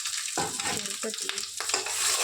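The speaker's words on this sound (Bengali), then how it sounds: "এদিকে আমার মশলাটা ভাজা হয়ে গেছে, আমি সাইডে তেলটা দিয়ে দেবো" Spices fry in hot oil in a pan while being stirred, a steady close sizzle broken by scraping stir strokes, with no voices.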